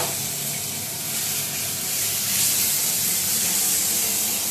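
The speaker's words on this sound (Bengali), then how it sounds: "এই যে মশলাটা দিয়ে দিচ্ছি, আদা রসুন পেঁয়াজ সমস্ত কিছুই" A ginger, garlic and onion spice paste for egg curry sizzles in a hot pan, a steady, bright, hissing fry that swells slightly and holds for several seconds without talk.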